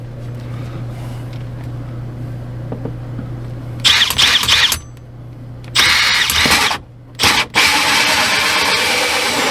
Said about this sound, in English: Now I gotta drill through the side of the camper.